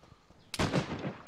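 A single sharp gunshot in the DayZ video game cracks out suddenly and loud, with a short rumbling tail that fades within a second.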